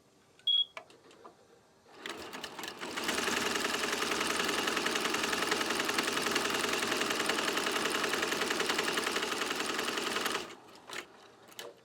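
An embroidery machine stitches over the curve of a letter R on stabilizer, a steady, close mechanical whir with rapid needle chatter that starts up, runs evenly for about eight seconds, then stops, with a few clicks before and after.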